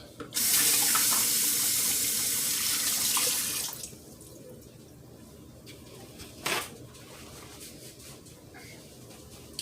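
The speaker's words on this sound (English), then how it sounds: "Wash my hands real quick." A sink tap runs loudly while hands are washed beneath it, a steady close gush of water for a few seconds that then shuts off, followed by a quiet room and one brief clatter.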